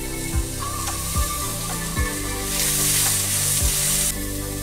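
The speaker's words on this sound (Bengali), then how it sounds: "এটাকে একটু ফ্রাই করে নেব।" Paneer mixture with salt fries in a pan, giving a loud, steady sizzle, with a few sharp metallic scrapes of stirring spaced about a second apart.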